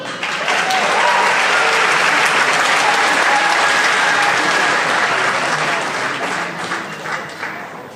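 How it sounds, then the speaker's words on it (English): Audience applause at a middle school graduation ceremony, a dense, steady wash of many clapping hands that stays loud and close for the whole stretch before tapering off slightly at the end. "another round of applause"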